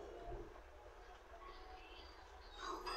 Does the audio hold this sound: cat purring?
no